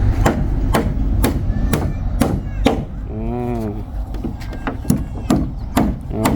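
Sharp hammer blows drive wooden floorboards into a corner of a bedroom floor, a rapid series of loud, near knocks with a brief pause where a voice speaks.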